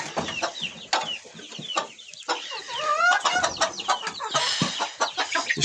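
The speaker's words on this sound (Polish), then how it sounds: "A kurczaki przyniosłem obok." Chickens clucking in a coop with litter bedding, several birds calling close by in busy overlapping bursts with occasional rising squawks, no talk.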